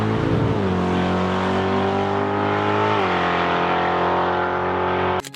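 A Ford Mustang drag car at a private drag racing event roars down the strip, its loud engine note holding steady, dipping once as it shifts gear, then cutting off abruptly at the end.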